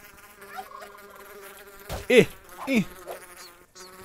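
Bees buzz in the video game Minecraft, a thin insect drone running under game sounds, with a short spoken syllable and a couple of louder bursts midway.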